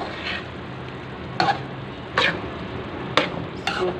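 Minced meat fries with black pepper, crushed red chillies and green chillies under a steady low sizzle, broken by four sharp scraping stirs of a spoon against the pan.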